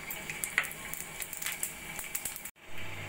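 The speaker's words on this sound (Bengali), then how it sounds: "জিরে ফোড়ন।" Cumin seeds temper in hot oil with bay leaf, cardamom, cinnamon and cloves for katla fish curry, giving a soft crackling sizzle with small pops. The sound holds steady, then cuts off abruptly near the end.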